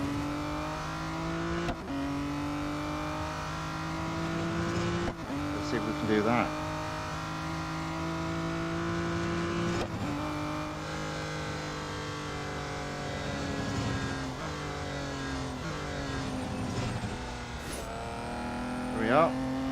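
A V12 race car lapping a track in Real Racing 3, the engine whining steadily and climbing through the gears with brief drops at each shift, someone talking calmly over the continuous game engine noise.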